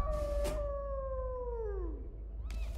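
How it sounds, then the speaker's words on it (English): In the Dishonored 2 video game, a dog lets out one long, close howl that slowly falls in pitch, framed by short bursts of noise at the start and end. "why is there a dog?"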